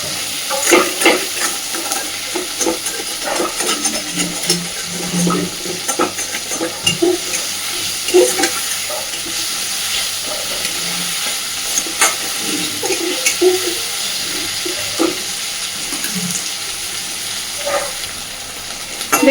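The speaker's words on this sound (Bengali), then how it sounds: "পেঁয়াজ, টমেটো আর কাঁচা লঙ্কাটাকে দিয়ে হালকা একটু ভেজে নেব" Onion, tomato and green chilli frying in a pan, a steady loud sizzle and hiss with occasional stirring scrapes, continuous throughout with no talking.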